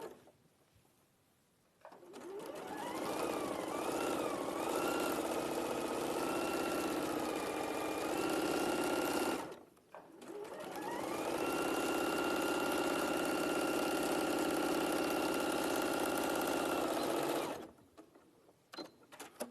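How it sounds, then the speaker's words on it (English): Sewing machine stitching along a top's seam in two long runs, each rising to a steady whirring hum that holds for several seconds before stopping, with a quiet pause between them. "so I'll sew that one"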